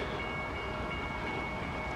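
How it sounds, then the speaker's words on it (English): A small park railroad train at The Living Desert runs past with a steady rumbling roll and a faint sustained tonal whine, continuous and moderately close, no voices. "railroad"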